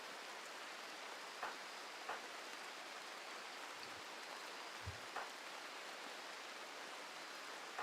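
Steady rain falling in a video game, a broad hiss of downpour held at an even level throughout, broken by a few faint soft knocks and thumps.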